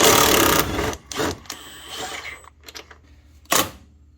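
Short impact wrench bursts on strut mount bolts of an Audi Q5, a loud rattling hammer at the start, then a few shorter hits and a sharp final burst, with no talking.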